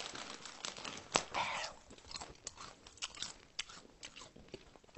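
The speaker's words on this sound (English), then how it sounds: "Why are you over here chewing like a fucking horse?" Loud open-mouthed chewing close to the microphone: wet crunches and smacks in an irregular steady rhythm with sharp bite clicks, and no talking.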